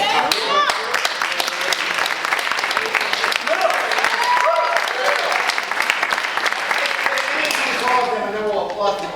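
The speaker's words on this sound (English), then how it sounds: "we'll give all the playwrights a round of applause" Audience at a college theatre festival of new plays applauds the playwrights, loud, dense clapping close by with cheers and voices mixed through it, continuing throughout.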